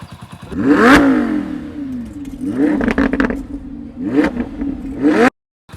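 An old motorcycle engine is kick-started and revved, giving repeated loud rising revs with sputtering firing between them, close by and with no talk, before cutting off abruptly at the end.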